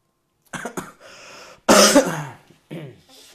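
A man coughs close to the microphone in several harsh bursts separated by short pauses, the loudest spell coming midway.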